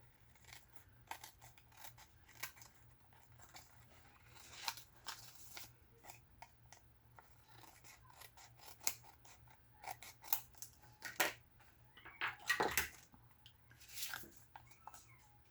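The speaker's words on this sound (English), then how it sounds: "All right, I'm going to go ahead and trim this." Scissors trim a paper envelope with a string of faint, crisp snips and rustles at close range, irregularly spaced over a quiet background.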